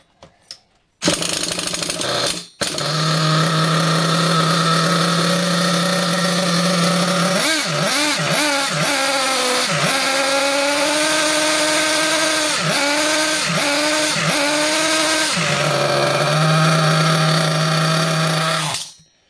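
A nitro engine in an HPI Savage XL 5.9 RC car, still being broken in, runs loud and close with a steady buzzing drone and several sharp revving blips in the middle before settling back to idle.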